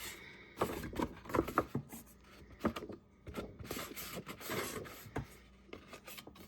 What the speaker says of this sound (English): So inking your edges hides imperfections.